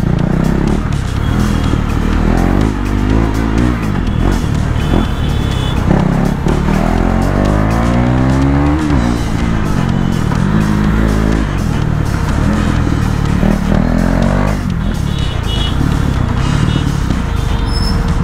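KTM Duke 390 motorcycle exhaust during street riding, a loud continuous engine roar rising and falling in pitch through revs and gear changes, close and steady throughout with road and wind noise.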